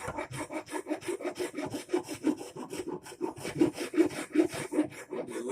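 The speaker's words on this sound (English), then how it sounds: "we're rasping on it now, taking all those rough corners off of there" Steady back-and-forth rasping on the wooden handle of a rusty, worn Stilson pipe wrench as rough corners are filed off, a close, even rhythm of scraping strokes with no talk.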